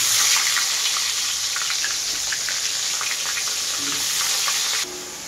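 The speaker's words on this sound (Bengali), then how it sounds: "আলু ভাজতে বসিয়ে দিয়েছি" Cut potatoes fry in hot oil in a wok, giving a continuous, close, crackling sizzle with scattered spits and pops, dropping slightly in level just before the end.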